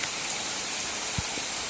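Heavy summer rain falls in a storm, a constant loud broadband hiss with a couple of soft low thumps of nearby drips.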